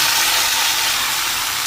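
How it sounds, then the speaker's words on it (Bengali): Chopped vegetables such as potato, pumpkin, beans, eggplant and pointed gourd sizzle in a hot pan with ginger for a vegetarian curry, a loud, dense, close hiss held steady for under two seconds. "এখন এর মধ্যে কেটে রাখা সবজিগুলো দিয়ে নিলাম।"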